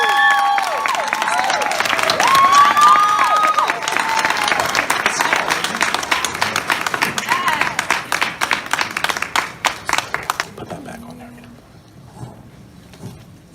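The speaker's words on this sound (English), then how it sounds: "Please give her a round of applause." Audience at a college campus panel applauding a professor as she is introduced: steady, dense clapping from a sizable crowd, loud and close at first, thinning into scattered claps and fading out after about ten seconds.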